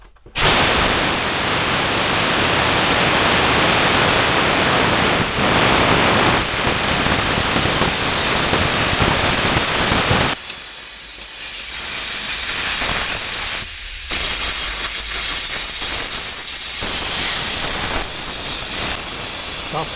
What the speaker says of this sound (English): I'm actually going to drain the compressor